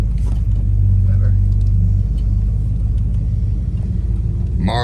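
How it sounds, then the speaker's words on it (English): A 1973 Dodge Charger engine rumbles steadily while driving, a loud low drone close by that holds an even tone throughout, with people talking over it. "driving a 1973 Dodge Charger"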